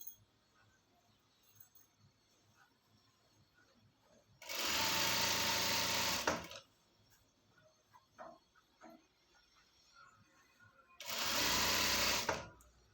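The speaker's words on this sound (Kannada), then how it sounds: "ಇಲ್ಲಿಗೆ ಅರ್ಧ ಇಂಚಷ್ಟೇ ಒಳಗಡೆಗೆ ಕ್ಲಾತ್ ಬರೋ ಥರ ಇಟ್ಕೊಂಡು ಸ್ಟಿಚ್ ಹಾಕೋಣ" A sewing machine stitching the seam of a pair of pants whirs in two steady, loud bursts of about two seconds each, with quiet pauses and light handling noises between them.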